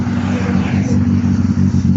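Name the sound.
Peugeot 206 engine revving with missing exhaust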